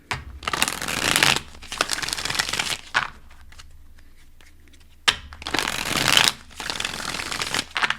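Tarot cards being shuffled for a reading: two close, crisp bursts of rapid riffling and sliding, separated by a short quiet pause, with no voices.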